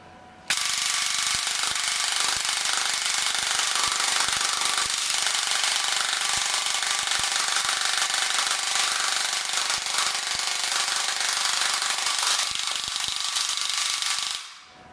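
An airsoft APS V2 gearbox fitted with an M120 spring runs continuously, a loud harsh mechanical grinding and rattling that holds steady for about fourteen seconds before cutting off abruptly.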